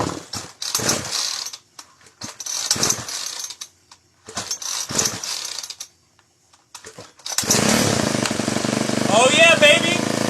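Small pull-start engine set on full choke: a few short rope-pull bursts with pauses, then the engine catches and runs steadily and loudly, with a voice heard over it.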